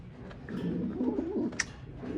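A pigeon in its moult coos softly and close for a moment, a low rolling call that runs on quietly with no talk over it.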